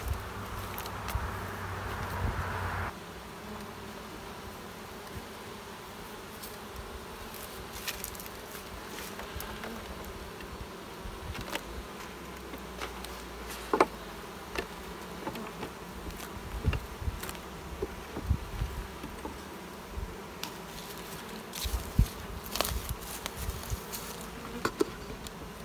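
Honey bees buzz steadily around an open hive that is being fed winter and pollen patties and given a second deep box, a close continuous insect drone with scattered louder passes and light handling knocks.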